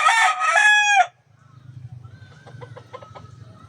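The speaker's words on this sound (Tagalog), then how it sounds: "May mga manok dito sa bahay." A rooster crows loudly and close at a home, a single long bright call, followed by softer rapid clucking from chickens nearby.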